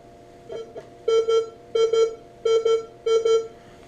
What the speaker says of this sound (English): we're going to wave this across the coil. Let's see what kind of noise it makes here.